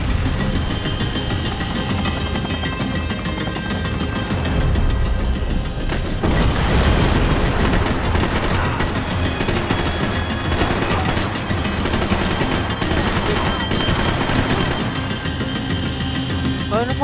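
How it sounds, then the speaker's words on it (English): Gunfire and grenade-launcher blasts in the video game Max Payne 3: dense, loud bursts of automatic fire and booms over a steady helicopter-like roar, continuous for the whole stretch with no pause. "Ơi nó phóng lựu tiếp kìa."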